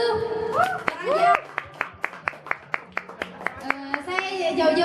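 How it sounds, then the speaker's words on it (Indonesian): A small group claps roughly in rhythm, a dozen or so distinct claps spaced evenly, mixed with voices talking and calling out in the room at a comedy show. "Tepuk tangan dulu."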